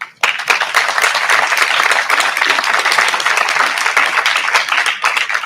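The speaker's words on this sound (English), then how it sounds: "please give a round of applause for Aiden Baltikoff" Graduation audience applause for a twelfth grade class, a dense, loud burst of many people clapping that starts abruptly and holds steady.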